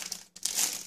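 A plastic packet holding sports sunglasses crinkles as it is unpacked, a close rustle broken by a brief pause and then louder crinkling.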